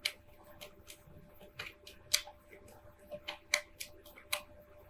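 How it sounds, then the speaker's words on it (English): Tarot cards being shuffled by hand, giving a quiet run of irregular soft snaps and riffling flicks close by, with no talking. "let me shuffle here with these, call them my clarifying cards."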